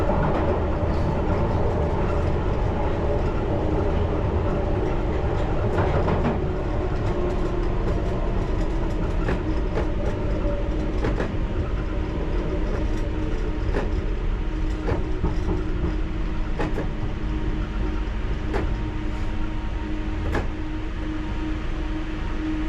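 London Underground Piccadilly Line train braking into a platform, a steady loud rumble of wheels on rail with periodic clicks and clacks as it slows, no voices.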